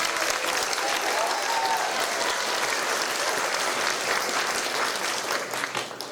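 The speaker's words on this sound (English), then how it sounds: "Can we give Jillian Brito a round of applause?" Sustained applause from an audience at a spring choral and orchestra concert, steady dense clapping throughout that tapers slightly near the end, with no talking over it.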